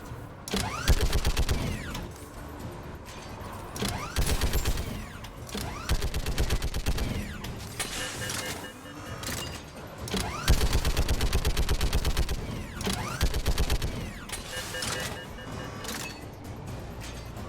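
A gun in the video game Mass Effect 3 firing: dense rapid bursts of automatic fire with a mechanical wind-up between them, loud and near, in stretches lasting several seconds.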